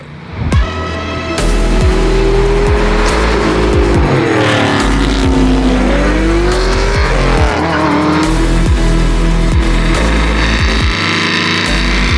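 A 550 hp 1963.5 Ford Falcon race car called Red Rocket, its engine roaring loud and close, revving up and down through shifts with harsh bursts and a steady throaty drone, no voices.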